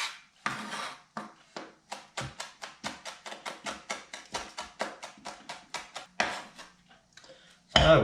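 Ingredients for Thai and Laos sausage chopped with a knife on a cutting board: a steady run of quick, crisp close-up knife taps with brief pauses, ending in a louder clatter, no voices.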